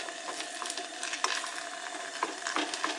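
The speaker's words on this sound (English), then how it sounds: "So, stir this around a bit." Sausages cooking on a small cast iron griddle, with a spatula scraping and stirring in scattered clicks and taps over a steady, moderate sizzle.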